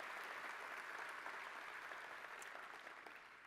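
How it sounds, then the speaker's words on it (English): A crowd at the 2014 Joe DiMaggio American Icon Award ceremony applauds honoree Frank Stafford, a continuous, even roar of clapping heard faint and distant, sustained throughout without speech. "One more round of applause, please, for Frank Stafford"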